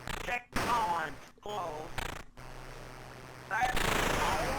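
Bombs dropped from a plane explode in a video game as a few heavy bursts separated by short gaps, with someone talking over and between the blasts.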